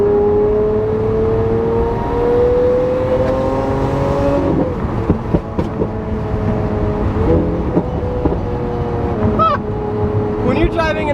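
A Lamborghini Aventador S engine roars close and loud while driving, its tone rising through gears and then settling into a steady drone with blips of revving. A voice talks briefly over it.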